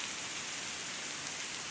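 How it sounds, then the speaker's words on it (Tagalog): Heavy rain pours down outside a small cave, a dense, hissing wash of noise that fills the space evenly and loudly with no breaks or voices. "Ang lakas ng ulan mga master oh."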